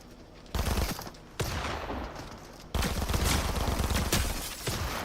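Fortnite gunfire rattles in loud automatic bursts, three sustained volleys starting in quick succession, dense and close with no voices.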